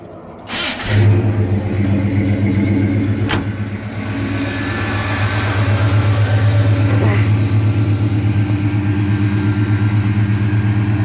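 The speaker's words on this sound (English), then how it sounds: "let me start it up before I run out of minutes so you can hear it from a distance" A 350 crate car engine cranks, catches and settles into a steady, deep rumbling idle, loud and continuous with a slight rise in revs.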